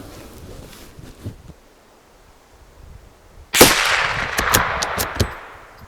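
Rifle shots from a Tikka T1X firing Winchester .22LR ammunition on an outdoor 50-yard range: after a quiet stretch, a sharp crack is followed by a quick run of several more shots.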